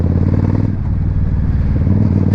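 Suzuki Marauder bobber-build motorcycle, engine running close and loud with a rough, pulsing exhaust and uneven popping bursts like backfires.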